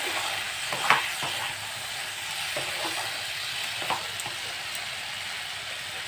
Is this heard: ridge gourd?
yes